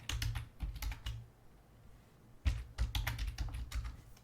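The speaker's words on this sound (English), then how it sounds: "I'll type it in channel." Quick clicky keystrokes on a computer keyboard come in two bursts of typing separated by a short pause, close and moderately loud.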